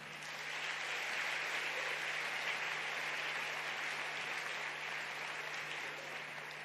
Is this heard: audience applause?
yes